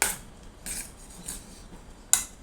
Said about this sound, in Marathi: तीन चम्मच टमॅटो सॉस हे चांगलं मिक्स करून घेऊ